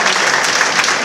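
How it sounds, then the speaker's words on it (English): An audience applauds in honour of teachers, a dense and steady burst of clapping that fills the whole moment at high volume, with no voices standing out. "I want you to give them a round of applause"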